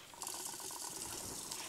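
A water aspirator in a chemistry lab is switched on, giving a steady, loud broadband rush of flowing water with a rattling, ratchet-like texture that starts abruptly and continues unbroken.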